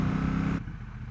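A Triumph Bonneville Bobber 1200 motorcycle on the move, a loud, steady engine drone that drops off abruptly partway through to a lower, rougher rumble, with no talking.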